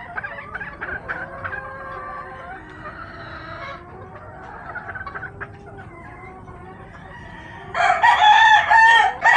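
Stewart's yellow-legged hatch gamefowl roosters crow repeatedly at a breeding farm, several birds overlapping amid clucking, with a louder, closer crow bursting in near the end.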